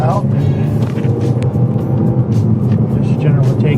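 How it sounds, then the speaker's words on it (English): A BMW F30 accelerating on a road test drive, a loud, steady low engine drone building beneath someone talking. "Just generally take and accelerate up to about 45 miles an hour."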